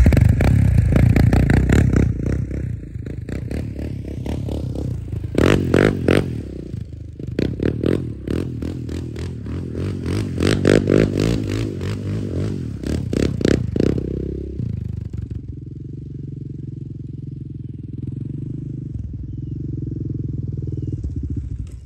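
A motorcycle engine revving hard during wheelie practice, loud and close with rapid throttle blips and pulsing acceleration, then settling to a lower steady idle-like drone near the end.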